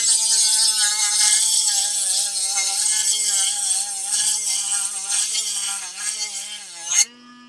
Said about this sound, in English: Let's say you just need this edge sanded.